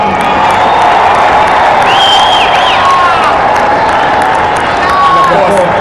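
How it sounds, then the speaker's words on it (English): Stadium crowd at a night Twenty20 cricket match between Guyana and Trinidad at the Stanford Cricket Stadium, applauding both teams with loud, steady massed clapping and cheering, whistles rising over the dense roar throughout. "Round of applause for both teams."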